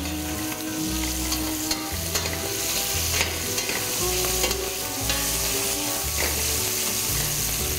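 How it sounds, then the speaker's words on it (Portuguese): Tomato is stirred into a sizzling cassoulet broth in a pot, giving a continuous frying hiss with scraping stirs throughout, under steady background music. "Aí, vamos dar uma mexidinha só aqui."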